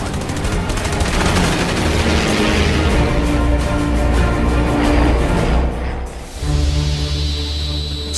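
Rapid, sustained aircraft machine gun fire rattles loudly and densely for several seconds, briefly pausing before resuming amid a heavy engine-like roar.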